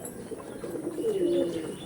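Racing pigeons coo close by in a soft, low, rising and falling murmur lasting a couple of seconds, with no other sounds over it.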